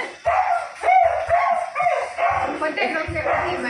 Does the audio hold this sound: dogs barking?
yes